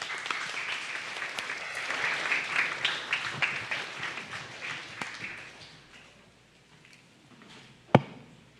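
A church congregation claps in praise, with applause rising, holding, and then thinning out to a few scattered claps and one sharp knock near the end.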